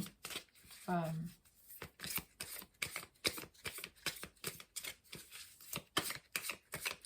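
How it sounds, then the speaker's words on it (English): Oracle cards being shuffled in a steady rhythmic riffle, repeated soft flutters close by and faint, with a brief voice sound near the start. "I've been shuffling now for a while"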